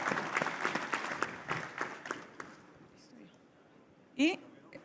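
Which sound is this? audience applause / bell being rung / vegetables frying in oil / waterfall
audience applause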